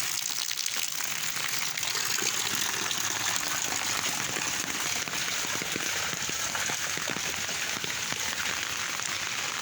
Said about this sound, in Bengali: মানে উপর দিয়ে পানি পড়ে পানিতে পা পা দিলে অটোমেটিক ধুয়ে ফেলে